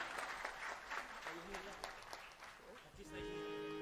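An audience claps at a Bhagwat Katha held at a temple in Raipur, a steady run of applause mixed with crowd noise and a tonal sound near the end, quiet overall.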